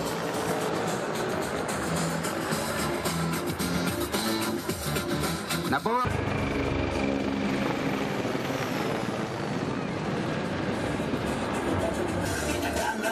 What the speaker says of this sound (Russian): В небе над расположением части боевые вертолеты демонстрировали различные фигуры высшего пилотажа.